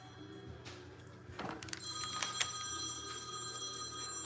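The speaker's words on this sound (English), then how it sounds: "This phone." A phone rings nearby with a steady electronic ringtone that begins about two seconds in and sustains to the end over low background hum, with no talking.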